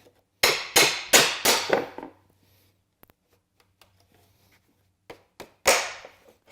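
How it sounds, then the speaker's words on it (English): A cat's paw bar struck and levered into pallet wood to pull a nail: a run of sharp, loud hammer taps, quiet scraping, then a few more taps and a squeaky pull. "That's the sound of a nail pulling."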